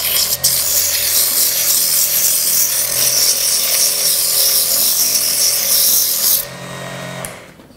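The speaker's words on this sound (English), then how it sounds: "we will use sandpaper" Sandpaper rubs over a wooden rocket model cylinder, a continuous, close, loud scratchy hiss that lasts several seconds and then cuts off, followed by quieter handling.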